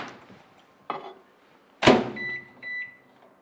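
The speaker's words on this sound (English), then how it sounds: "I'm going to heat it up in the microwave for maybe a minute on a medium to medium-low heat" A microwave oven warming raspberry jam in a Pyrex dish on medium-low: a door clunk, a loud latch thump, then a low running hum with beeps, close by and without speech.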